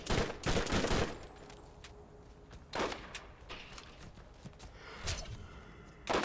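Bursts of gunfire in Borderlands come in separate volleys, loud clusters at the start, near three seconds, near five seconds and at the end, with quieter gaps between them.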